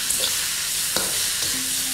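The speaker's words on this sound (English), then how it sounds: "Simply mix this around to get the noodles hot." Noodles are stir-fried and tossed in a wok with a big wok spoon, hawker street-style, giving a steady sizzle broken by a few sharp scraping clacks of the spoon against the pan.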